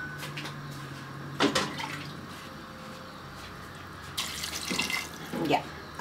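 Water poured into a cooking pot for an Ayacucho-style broad bean stew with potato, heard as short splashing bursts near the start and again toward the end, under a soft speaking voice.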